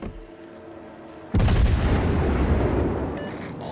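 Naval artillery salvo in World of Warships Legends: a sudden heavy booming blast after a quieter stretch, followed by a long rumbling decay that slowly fades over a few seconds.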